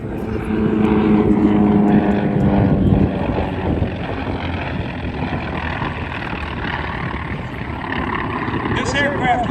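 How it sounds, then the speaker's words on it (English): Wright radial engine on an air-cooled warbird with short racing exhaust stacks, roaring steadily at a Cleveland airshow, loud and continuous throughout while someone talks over the engine drone. "one of the greatest pieces of music in the world is the sound of the Wright radial engine"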